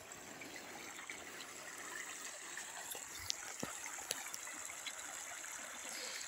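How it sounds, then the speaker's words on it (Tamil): Water runs steadily in a soft, continuous trickle with faint splashes, no voices, heard from a short distance. "தண்ணி ஓடிட்டு இருக்குது பாருங்க,"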